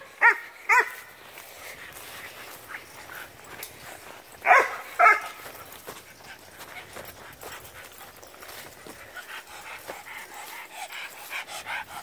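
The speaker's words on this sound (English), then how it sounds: "Annie, why are you barking at me?" A dog barks in a few sharp pairs of yaps, close and fairly loud, with quieter panting and movement filling the gaps between the bursts.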